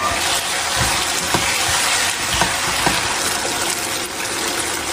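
Water pours into a pot of chicken, potato and chili peppers for stewing, a loud, steady gushing that fills the whole stretch without pause.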